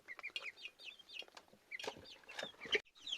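Busy poultry sounds: soft clucks and high chirps from chickens and chicks, repeated in quick irregular bursts, fairly close, with no talking.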